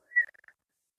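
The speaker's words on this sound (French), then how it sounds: "J'ai envie de siffler, excusez-moi." A person whistles a short, faint phrase of a few quick notes lasting about half a second, alone and surrounded by silence.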